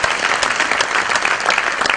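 Crowd applauding at a ground-breaking ceremony, dense, loud, continuous clapping from many hands close by, with no voices standing out.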